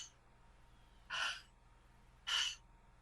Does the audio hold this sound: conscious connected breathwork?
yes